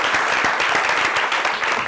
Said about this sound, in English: I think that deserves a great round of applause.